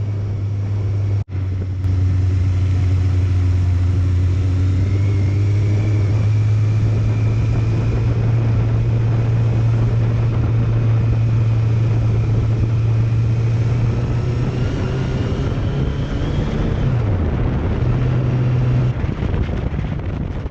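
A motorcycle cruises along a lakeside road in Telemark, Norway, its steady engine drone droning on with shifting pitch, a brief dip as revs change, and constant wind buffeting on the microphone, no voices.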